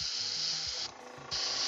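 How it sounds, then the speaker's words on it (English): Aerosol spray paint or primer hisses onto miniature figures in two long, loud bursts separated by a brief pause, with faint low voices murmuring underneath. "It's weird just spraying this stuff wet."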